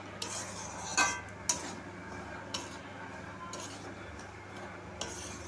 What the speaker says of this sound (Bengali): দিয়ে আমি সুজিটাকে ভালো করে এই ঘিয়ের মধ্যে টেলে নেব।